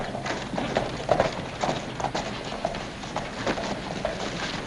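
A horse's hooves clip-clop in a steady, quick trot, with moderately loud, evenly spaced beats running throughout over a faint background.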